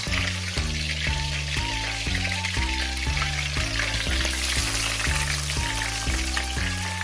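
Loud, continuous bubbling sizzle of tempura, including zucchini and mango pieces, deep frying in hot oil, dense crackling throughout with no talking.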